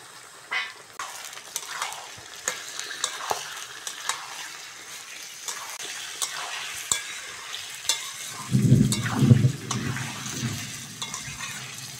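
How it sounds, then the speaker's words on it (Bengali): Chopped tomato and chicken pieces frying in a pan for a village-style red chicken curry, a close sizzle with repeated scraping and stirring sounds, and a brief deep rumble midway through. "এবার টমেটো কুচানো আর সঙ্গে চিকেনটা দিয়ে দেবো।"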